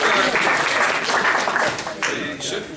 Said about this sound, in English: You shouldn't clap in advance.